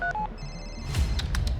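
Telephone ringing on an emergency call, with short electronic ring tones and beeps over a low background hum, followed by a few brief clicks, heard up close.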